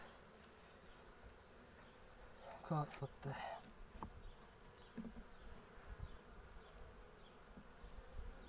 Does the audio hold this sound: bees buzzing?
yes